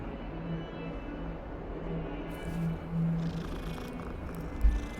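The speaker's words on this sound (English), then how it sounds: "It's just petting a little kitty." A cat in the Hogwarts Legacy video game purrs softly and steadily while being petted, a low rhythmic rumble close by and fairly quiet, with a small bump near the end.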